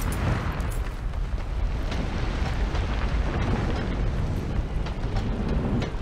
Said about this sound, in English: So I'm restarting the forge so they can make weapons for me.